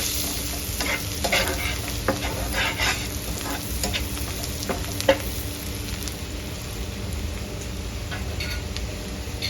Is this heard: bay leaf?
yes